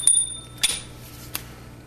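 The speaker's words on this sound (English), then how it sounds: "The bell." A small altar bell on an earth-element altar gives a couple of brief, bright metallic rings, the second cut short, followed by a soft knock in a quiet room.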